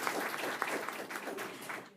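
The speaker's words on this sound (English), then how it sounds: "Give her a round of applause." An audience at a company business meeting applauds a newly introduced head of sales: dense, steady clapping from many hands at moderate volume that fills the whole moment without a break.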